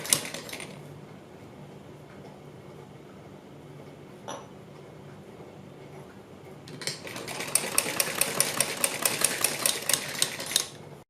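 A sewing machine stitching over stiff buckram: quiet hum and faint handling at first, then a loud run of rapid, evenly spaced mechanical clacks near the end.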